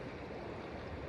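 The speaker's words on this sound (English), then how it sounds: "I would film today's practice right along the river so you can enjoy the sound of the water as well" A mountain river northwest of Banff rushes steadily, a dense, even wash of flowing water filling the whole moment with no pauses or voices.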